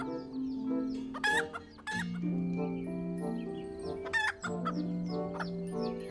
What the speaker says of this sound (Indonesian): Wih, ini mainan ayam jago teman-teman.